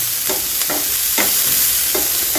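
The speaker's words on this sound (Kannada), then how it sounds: "ಸ್ವಲ್ಪ ಎಣ್ಣೆಯಲ್ಲಿ ಹೈ ಫ್ಲೇಮ್ದಲ್ಲಿಟ್ಟು 1 ನಿಮಿಷ ಆಗಷ್ಟೇ ಬೇಯಿಸ್ಬಿಟ್ಟು ತೊಗೋತೀನಿ" Vegetables sizzle in a little oil over a high flame, a steady frying hiss broken by several stirring scrapes, close and with no talk.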